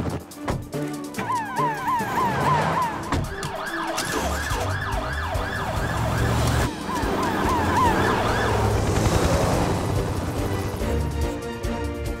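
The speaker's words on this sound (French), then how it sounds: "Hélène, suis-la avec l'ambulance des secours en montagne." An animated mountain rescue ambulance siren wails in rising and falling sweeps, loud and steady throughout, layered over a busy cartoon soundtrack with traffic-like motor noise.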